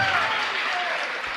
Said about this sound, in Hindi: बस तेजगढ़ नाम आ गया तो ताली बज जाती है।